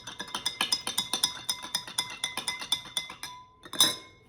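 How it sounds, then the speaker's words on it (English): A spoon stirring Juggernaut drink mix in a glass, quick rhythmic clinks against the sides, close and bright, ending with a couple of louder taps and no talking. "Just stir it up until all the clumps are gone."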